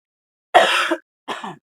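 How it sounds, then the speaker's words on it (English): Two harsh throat-clearing coughs, the first longer and louder, the second shorter, close by in an otherwise silent room. "if I have to cough, please forgive"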